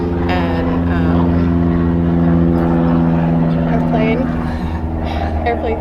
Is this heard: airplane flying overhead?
yes